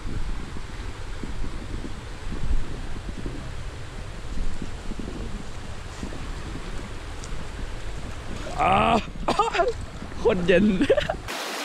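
A stream flows near a hotel in Chiang Dao, Thailand, heard as a steady broadband rush buffeted by wind noise on the microphone, with a voice speaking briefly near the end.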